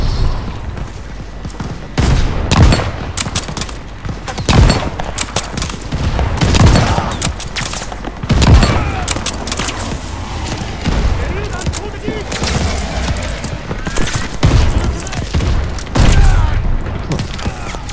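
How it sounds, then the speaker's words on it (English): Enemy gunfire in a Vanguard World War II campaign battle, with loud bursts of automatic fire and heavy booming impacts recurring throughout, and someone talking over the combat. "See, now they're shooting me."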